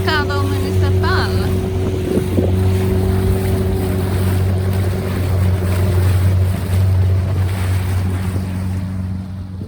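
Dinghy outboard motor running steadily toward Alvor, Portugal, a loud continuous drone with water and wind noise around it and brief higher tones near the start.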